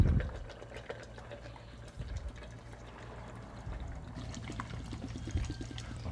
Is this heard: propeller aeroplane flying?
no